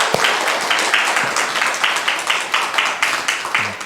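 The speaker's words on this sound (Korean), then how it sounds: "우리 박수로 환영하겠습니다." A church congregation at a Sunday service applauds together, a steady wash of many hands clapping in a loose, pulsing rhythm, fairly loud and filling the room.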